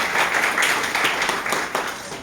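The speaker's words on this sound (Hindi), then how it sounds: "जोरदार तालियां।" Loud applause from an audience at a journalists' association gathering, with dense, steady clapping throughout the short moment.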